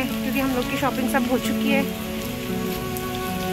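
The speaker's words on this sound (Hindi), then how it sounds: "ये देखिए कितनी तेज़ बारिश है।" Heavy rain pours steadily onto nearby surfaces in a dense, unbroken hiss, while someone speaks over it in the opening seconds.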